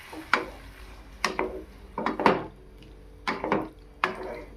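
Boiled banana stem, potato and eggplant are stirred in a pan, with a spoon giving several distinct scrapes and knocks in an irregular rhythm, close and fairly quiet.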